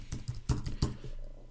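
Quick taps on a computer keyboard, several close keystrokes in a short irregular burst, with a faint hum behind them and no talking.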